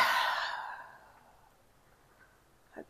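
A single long breath out during a hamstring stretch, a soft airy sigh close by that fades into near silence, with a faint catch of breath at the end.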